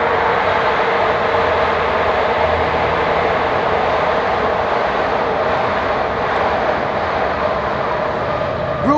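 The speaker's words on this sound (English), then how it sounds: "1 second, the train's coming" A train rolls past nearby with a loud, sustained, steady rumble and roar that fills the whole stretch without a break.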